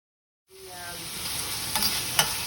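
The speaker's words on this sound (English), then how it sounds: "on high heat, we're gonna add our pork, and then we're gonna mix that, cook it, and just chop it up into super small pieces" Pork hitting an oiled pan on high heat, a sudden rush of sizzling that swells into a steady bright hiss, with a couple of faint clicks of a utensil near the end.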